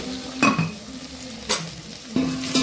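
Tomato and onion cooking in oil for a dantu soppu sambar, with a steady soft sizzle and three sharp bursts of stirring and spoon scrapes against the pan, close and without talk.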